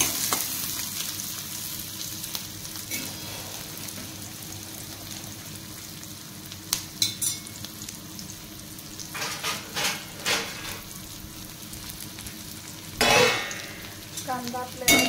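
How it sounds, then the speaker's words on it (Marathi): Onion sizzles and fries in hot oil in a pan while making Maggi noodles, a steady background hiss broken by sharper bursts and spoon scrapes as it is stirred. "नंतर आपल्याला कांद्याला तेलामध्ये परतून घ्यायचं आहे।"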